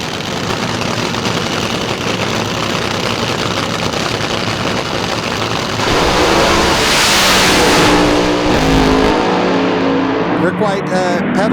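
Front-engine top fuel dragster launching and tearing down the drag strip at a March Meet first-round elimination, a loud sustained engine roar swelling midway and fading out, with an announcer talking over it.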